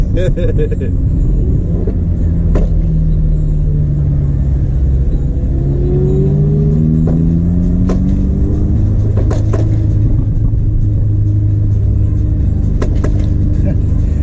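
A deep, gurgling Audi RS3 engine rumbles loudly and steadily on the Bathurst race track, with rising and falling revs as the car accelerates.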